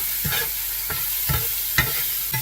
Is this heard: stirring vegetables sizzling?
yes